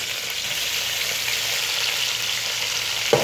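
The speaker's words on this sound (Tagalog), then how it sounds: "So next ilagay na natin yung kamatis." Chicken gizzards frying in a pan with a loud, continuous close sizzle, then a sudden thump and hiss near the end as tomatoes drop in, with no talking.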